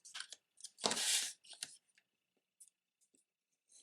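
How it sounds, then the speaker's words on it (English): Scissors snip through a paper gift box flap with a few quick crisp cuts, one longer louder crunching cut, then faint scattered snips, close and quiet with no talk. "Now we're gonna cut out only this flap in here."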